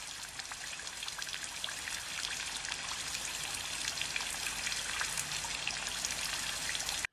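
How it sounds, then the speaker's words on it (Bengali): Heavy morning rain falls steadily around a house, a dense, even hiss of drops that holds unbroken from start to finish with no voices. "আজকে সকাল থেকে এত বৃষ্টি কি বলবো"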